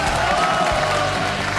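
A studio audience on a Chinese television show applauds, a dense, steady wash of clapping across the whole short stretch.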